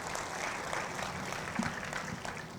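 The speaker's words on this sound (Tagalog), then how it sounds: "Oh, isa pang malakas na palakpak sa Lord." A church congregation claps during a sermon, a moderate wash of applause running steadily throughout with no clear peaks.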